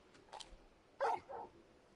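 Torgal, the large dog companion in the video game Final Fantasy XVI, lets out a couple of short yips followed by two louder barks, close and clear against a quiet background.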